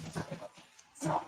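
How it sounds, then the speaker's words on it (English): Several dogs squabble indoors, trading short yips and barks with whimpering cries between them. The sounds come close and in quick bursts, and a voice may mix in. "my dogs are going at it now."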